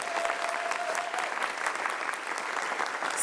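Audience applause at a DC Startup Week kickoff event, a steady wash of many hands clapping at close range that holds evenly for the whole stretch without talk.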